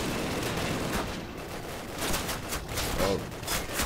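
Rapid gunfire in Call of Duty, a dense continuous fusillade of battlefield shots with a few louder bursts, steady and fairly close throughout.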